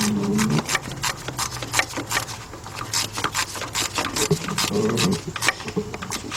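A ratchet tightens a thin 10mm thermostat bolt on a 2007 Chevy Impala. The clicking is dense and rapid, sounds close, and keeps on steadily over a rumbling workshop background.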